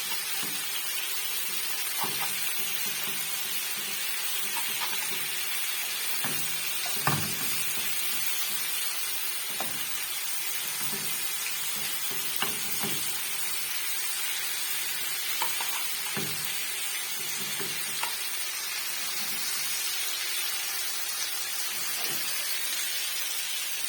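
Cauliflower and tomato sauce cooking in a pan, a soft continuous sizzle with scattered scraping and tapping as it is stirred, fairly quiet and steady, with no talk.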